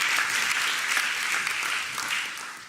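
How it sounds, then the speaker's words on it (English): Sustained audience applause at a live public event, a broad dense wash of many hands clapping that holds steady for a few seconds before easing off slightly toward the end. "why don't you continue with the applause?"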